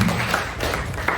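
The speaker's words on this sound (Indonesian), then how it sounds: "tepuk tangan dulu untuk kita semua" An audience claps together in a short burst of dense, steady applause at a school teachers' training session, with no voices heard over it.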